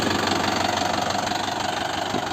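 A four-cylinder Mahindra Yuvo 575 4x4 tractor engine runs steadily close by, a loud continuous rumble with a knocking, pulsing diesel beat and no talk over it.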